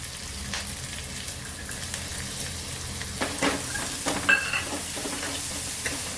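A chili, ginger, garlic and coriander paste fries with curry leaves in a hot pan, giving a constant close sizzle with occasional stirring scrapes and clinks.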